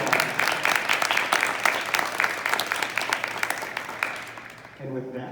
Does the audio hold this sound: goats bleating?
no